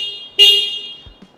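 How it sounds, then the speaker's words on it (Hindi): Horn of a 2023 Bajaj CT110X motorcycle, one short loud beep, close and clear, followed by a little handling noise. "ये हॉर्न है इसका"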